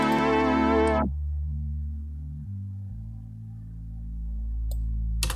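A synth bass tone sustains low, shifting between a few deep held notes after a brighter chord cuts off early, smooth and steady with no talking.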